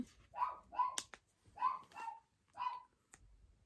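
Small dog barking close by in a short series of sharp yips and barks, four bursts spaced across a few seconds, with a faint tap between them.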